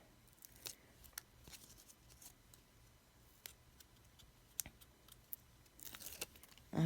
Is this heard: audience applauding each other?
no